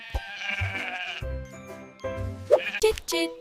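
A sheep bleats several times in short, wavering calls at close range, after a voice speaks briefly.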